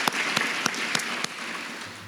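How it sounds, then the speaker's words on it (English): An audience at a State Farm grant announcement claps together in a brief burst of steady applause, dense and fairly loud, with a few sharper individual claps standing out. "I think that's worth some applause."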